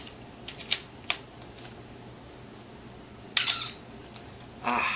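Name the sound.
cranking film advance lever on Canon AE-1 camera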